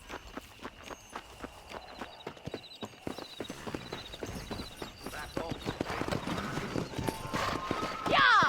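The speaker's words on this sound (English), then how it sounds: "I'll show you how we ride round these parts." Horse hooves clip-clop steadily while riding in the video game Red Dead Redemption, a fast regular rhythm close by with a brief whinny near the end and a voice shouting once over it.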